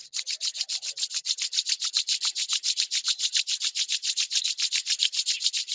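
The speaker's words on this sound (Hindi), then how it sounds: "दोनों हाथों को रब करेंगे।" Palms rubbed briskly together during a morning yoga session, a rapid, even run of dry swishing strokes, close and steady throughout, with no voices.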